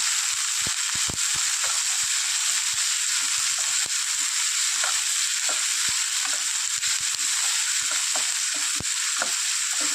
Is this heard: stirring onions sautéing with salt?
yes